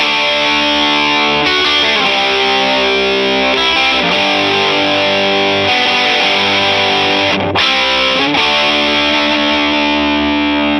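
A Fender Telecaster Player HH electric guitar made in Mexico plays through heavy distortion, thick sustained chords ringing continuously and loudly with a couple of brief breaks between strums.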